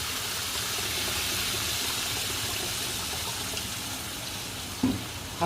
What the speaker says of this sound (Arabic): حطينا لتر ميه على الرز، وهنسيبه يستوي.